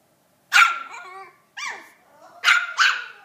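Sharp, high-pitched barks from a teacup chihuahua confronting a big dog come in irregular bursts, some trailing into short growly whines, loud and close in an otherwise quiet room.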